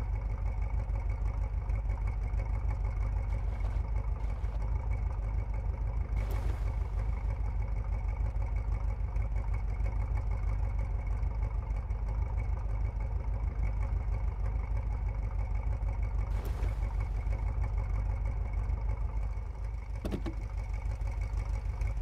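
A 1980 Jeep CJ7 Renegade with a stock engine, in the SnowRunner off-road game, drones steadily at a low, even pitch while driving through deep mud ruts, constant and close throughout with a few brief clicks.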